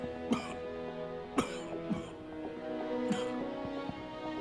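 An elderly chairman coughs in a hospital setting: a few short, separate coughs spread over several seconds, set against a sustained musical score.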